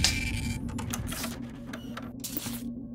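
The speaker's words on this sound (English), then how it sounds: "Dang, printer's not working again." In the Shadows of Doubt video game, a printer runs with a rapid mechanical chattering and whirring, loud and close, continuing steadily for a few seconds with no talk.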